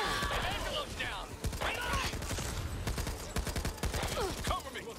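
Rapid, dense bursts of gunfire from a sawed-off shotgun and other weapons in the co-op zombie shooter Back 4 Blood, loud and continuous, with excited voices shouting over the shots.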